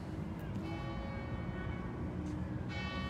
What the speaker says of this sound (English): And the bells are ringing